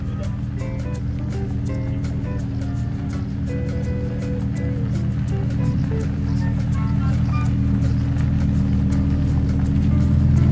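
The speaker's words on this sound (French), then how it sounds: "Le moteur est un V10. C'est 40 chevaux, c'est noble, c'est beau, ça fait du bruit." A Lamborghini Huracan Evo Spider's V10 engine idles with a deep, steady rumble, close by and loud, with a rhythmic ticking throughout and no talk.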